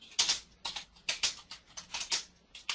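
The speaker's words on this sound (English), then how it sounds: "Somebody's typing." Someone types on a computer keyboard during an online meeting, quiet rapid clicks arriving in short, uneven bursts several times a second.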